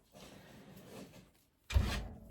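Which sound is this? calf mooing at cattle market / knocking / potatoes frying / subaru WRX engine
knocking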